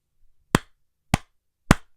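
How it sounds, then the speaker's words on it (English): Three sharp, isolated hand claps made as an audio edit marker while recording a podcast, evenly spaced about half a second apart, close and loud against near silence. "All I did was, when I screwed up, is I just clap 3 times."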